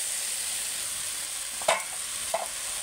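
Fried potatoes are stirred into a thick snail curry in a pan over a soft, steady sizzle, with two brief scraping strokes of a spoon close by.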